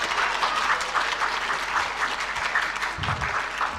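An audience at a 2024 friendship evening applauds after a performance with a steady, even patter of many hands clapping at moderate distance, and a brief low thump near the end.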